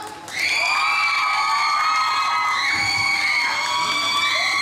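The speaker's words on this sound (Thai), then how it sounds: "ขอเสียงปรบมือให้กับท่านครับ" Cheering erupts from a crowd at a company gathering, with loud whoops and high-pitched shouting voices sustained across several seconds, and only faint clapping beneath.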